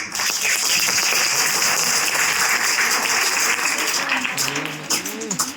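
Dense, steady applause from a large audience at a college science exhibition fills the space, with a few scattered claps and faint voices as it begins to taper near the end.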